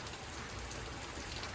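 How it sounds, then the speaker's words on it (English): Heavy rain pours steadily outdoors on an August morning, a dense continuous hiss of drops hitting surfaces with no pauses, fairly loud and alone without any voices. "I'm going to show you it's pouring outside"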